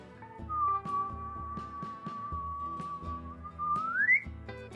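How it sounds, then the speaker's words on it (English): Someone whistles a long sustained note that rises at the end while piping icing through a fine tooth nozzle onto a cactus cake, close and clear over faint clicks and kitchen movement. "You do have to whistle when you pipe it, obviously."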